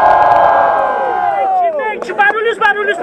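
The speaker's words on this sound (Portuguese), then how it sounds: "muito barulho pra quem gostou das rimas do Killua" Crowd cheering at a rap battle, a loud sustained roar of many voices that breaks into scattered whoops and shouts toward the end, close and filling the space.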